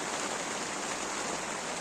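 Steady rain hisses on a greenhouse, a soft constant wash of drops with no breaks over the short span.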